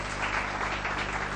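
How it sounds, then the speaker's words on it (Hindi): Studio audience on a Hindi TV debate show applauding as political guests are welcomed, a brief wash of dense clapping at even loudness. "जोरदार तालियों से इनका स्वागत कीजिए"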